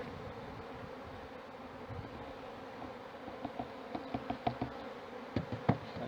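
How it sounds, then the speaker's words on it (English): Honey bees shaken into a tray hum in a dense, soft, continuous buzz. Brief louder wingbeat bursts cut through it as individual bees fly close. "So we shake the bees now into this tray"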